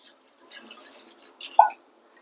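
Water poured into a pan of prawn and drumstick leaf curry with tomato and curry leaves, a soft brief splash and trickle that ends in one sharper drip, quiet and close, with no talk.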